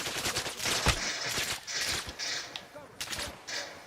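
Enemy gunfire in the video game Arma Reforger: a string of sharp, cracking shots in irregular bursts, loud and close, with a voice murmuring underneath.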